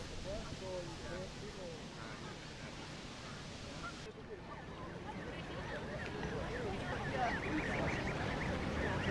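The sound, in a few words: geese and goslings in Hyde Park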